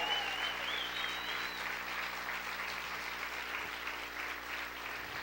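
A church congregation applauding the King, steady broadband clapping from a large crowd filling the space, with a faint whistle-like tone early on and a low hum underneath.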